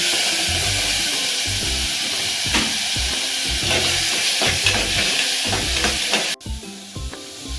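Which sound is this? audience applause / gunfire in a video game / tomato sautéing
tomato sautéing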